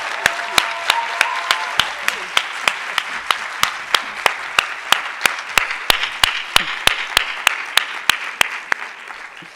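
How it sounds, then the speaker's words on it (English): A conference audience gives warm applause for the 2024 Siyaphumelela scholars, a steady wash of many hands clapping while one louder close clap repeats in a regular beat throughout. "Let's give our 2024 Siyaphumelela scholars a warm round of applause."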